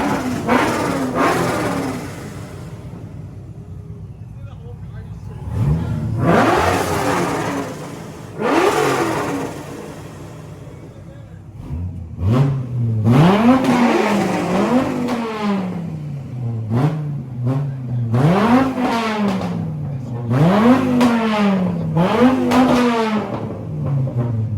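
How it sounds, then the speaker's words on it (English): Supercharged Corvette C6 and a Supra, built on the same motor as a competition car, revving hard on two-step at a car meet, loud close bursts of rising engine roars with sharp popping and crackling between repeated revs. "There's a supercharged C6 there that's gonna shoot some flames, and Supra that's the same motor as Rad Dan's competition car"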